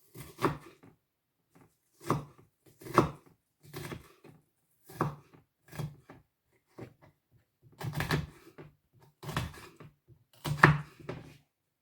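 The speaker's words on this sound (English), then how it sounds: "on a separate board with a separate knife, I'm going to chop half of a red onion" A knife chops half a red onion on a cutting board in a series of distinct, close knocks. The strokes come irregularly, sometimes one at a time and sometimes in quick pairs, with short quiet gaps between them.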